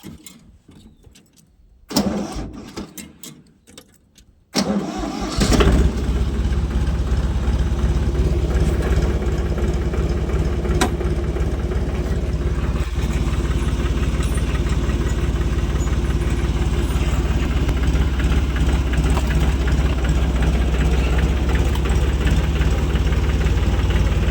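Tractor engine running with a bed-making implement in a field, starting with some clatter and then settling into a loud, steady, close rumble that holds without a break.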